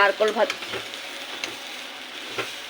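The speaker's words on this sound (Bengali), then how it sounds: "নারকেলটা ভেজে নিয়ে লাড্ডু বানাচ্ছি।" Coconut sizzling in a pan for laddu, a steady frying crackle with some stirring scrapes, close and moderately loud throughout.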